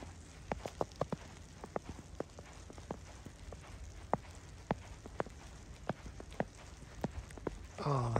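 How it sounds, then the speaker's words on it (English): Footsteps crunching on fresh snow outdoors, a series of faint, irregular crisp crunches at a walking pace, with a brief louder noise at the end. "Oh, the sound of fresh snow under your feet."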